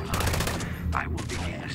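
Rapid gunfire from a gun shooting ghouls in Fallout 76 rattles continuously under a low rumbling game backdrop, moderately loud, with a brief bright ping partway through.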